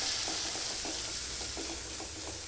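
Spice masala of coriander powder, chaat masala and garam masala fries in oil for a chickpea dish, a steady soft sizzle punctuated by faint rhythmic scraping of a stirring spoon, with no talk.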